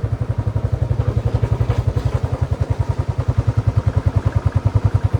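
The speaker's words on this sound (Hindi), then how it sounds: "अब हमें बस बाइक पार्क करनी है।" A motorcycle engine idles and putters close by while the bike is being parked on a mountain route in Uttarakhand, a steady loud rhythmic thumping exhaust beat with mechanical clatter.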